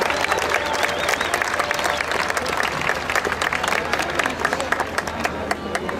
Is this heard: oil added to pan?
no